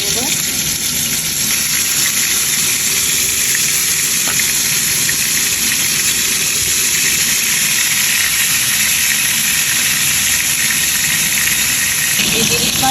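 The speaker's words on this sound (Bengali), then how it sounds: "এখন আমি গরম তেলে দিয়ে ফ্রাই করে নেব" Marinated hilsa fish, coated with turmeric, chili powder and salt, fries in plenty of hot oil in a frying pan with a steady, loud, continuous sizzle and hiss throughout, close up.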